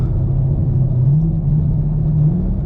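A Chevrolet Camaro SS engine holds a loud, steady, low rumble at raised revs in second gear, heard from inside the car with only slight swells in pitch.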